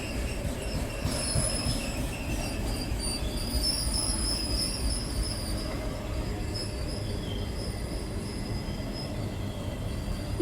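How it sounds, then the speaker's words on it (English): A GBRf Class 66 diesel freight train with flat cars rolls past close by, its wheels rumbling steadily with high metallic squeals throughout and no voices. "because the locomotive had disappeared way up there out of view, and there's a load of flat cars"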